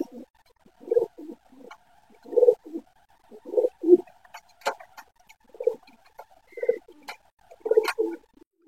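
A male pigeon kept in a breeding pair coos in repeated soft, throaty phrases of about one per second, close and clear over otherwise quiet surroundings.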